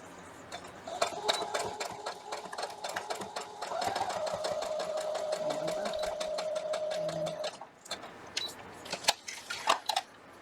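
A sewing machine restitching a paper-pieced quilt seam runs in a steady rapid needle rhythm, close and continuous for several seconds, then stops and gives way to a few light clicks and handling sounds.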